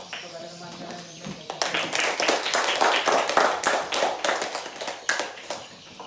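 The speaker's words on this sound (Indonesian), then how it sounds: "Beri tepuk tangan kepada teman-teman yang" Students in a classroom during an Islamic religious lesson break into a burst of clapping: dense, brisk hand claps rising after a quiet start, holding steady, then thinning out near the end.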